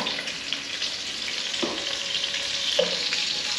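Sausage frying in a hot pot gives a continuous close, fairly loud sizzle and crackle, with a few spoon scrapes and taps over it and no talking.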